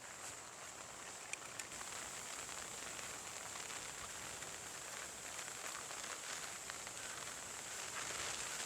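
Light rain falls steadily over rural fields and rice paddies, a soft, even hiss of drops with faint scattered ticks, heard at a distance and fairly quiet.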